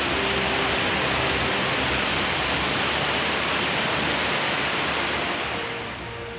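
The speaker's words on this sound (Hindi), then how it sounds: "सड़कों पर पसरा सैलाब" Floodwater rushing through flooded streets in Northeast India, a dense, loud, continuous roar that stays steady and eases off slightly at the end.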